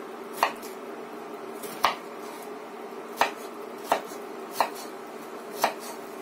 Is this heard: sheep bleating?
no